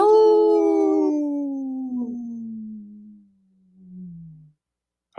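A lone wolf howls in a long, clear, steady tone that slowly falls in pitch, followed by a fainter second howl trailing off into silence.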